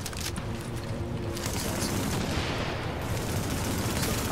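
Gunfire rattles continuously in the video game The Division, with dense overlapping shots and bursts forming a loud, unbroken barrage.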